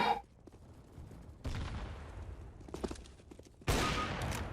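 Gunfire in the shooter CS:GO: bursts of rifle shots crack out in a few quick volleys, with a loud close burst near the end, over faint game ambience.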